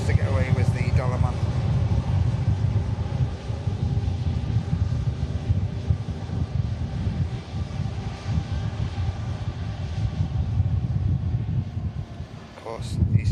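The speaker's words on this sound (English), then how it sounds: "Ryanair taxis off, and the first of the EasyJets to get away was the Dalaman." A Ryanair airliner taxis at a busy airport, its low engine drone steady and fairly loud under a voice talking throughout, with wind buffeting the microphone.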